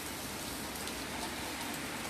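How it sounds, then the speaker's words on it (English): Heavy rain falls at night during Hurricane Delta, a dense, steady hiss of drops hitting surfaces, close and unbroken, with no voices. "It's raining all night long."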